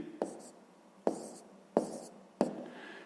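Handwriting during a fifth-grade maths exercise, four soft scratchy pen strokes spaced about a second apart, each starting with a small tap, close and quiet with a breathy background.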